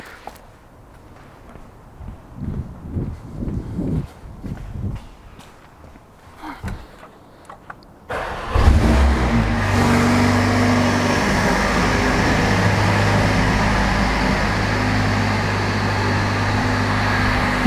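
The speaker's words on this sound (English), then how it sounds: "so we need to start the engine." A Mercedes-AMG A45 S, raised for rear differential maintenance, fires up after several seconds of quiet shuffling and handling noise. Its engine then settles into a loud, steady idle that continues to the end.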